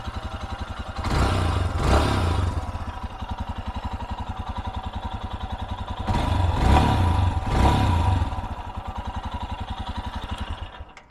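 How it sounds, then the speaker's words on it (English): A 2023 Royal Enfield Himalayan motorcycle idles after a cold start with a steady, rapid putter, then revs sharply twice in two separate bursts before settling back to idle. "I'll give it just a couple revs for you."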